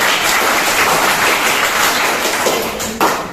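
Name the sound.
audience applause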